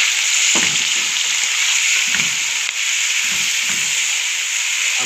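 Tomatoes dropped into a pan of frying mixed vegetables give a loud, steady sizzle and hiss that fills the whole span, with a few soft stirring scrapes underneath and no talking.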